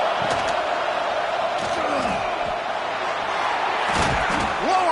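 A stadium crowd in the video game EA College Football 26 roars in a dense, continuous wash of noise, with faint slaps and thuds from the field under it.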